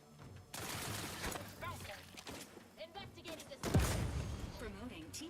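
Video game gunfire rattles in scattered bursts and volleys, moderately loud, mixed with chatter from players talking over the shooting.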